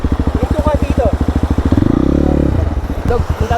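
A motorcycle engine chugs nearby with a rapid, even firing pulse on a riverbed trail, briefly revving higher before settling back to a lumpy idle while people talk over it.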